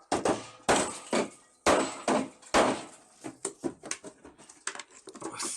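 Heavy strikes from an improvised hammer on a trike, four loud separate metallic blows followed by a quicker run of lighter taps, close and dry.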